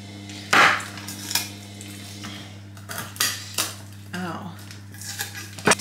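Garlic cloves being chopped with a knife on a small chopping board, heard as a few scattered knocks and scrapes over a steady background hum.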